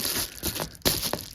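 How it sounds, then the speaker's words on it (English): Tape being pulled and wrapped around a box for a heat shield in a tiny pallet cabin, giving close crinkling and tearing bursts, loud and alone. "And we'll just tape up around it."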